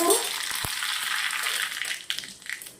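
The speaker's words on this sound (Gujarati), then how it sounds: "તેલ ગરમ થઈ ગયું છે, 1 ચમચી મેં તેલ લીધું છે। આપણે અંદર રાઈ જીરું નાખું છું" Mustard seeds and cumin sizzle and crackle in a spoonful of hot oil for a coconut idli tempering, a close hissing fry with a few sharp pops that fades toward the end.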